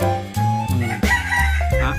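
A bantam rooster crows loudly and close by in a series of harsh, drawn-out calls, with no other sounds standing out.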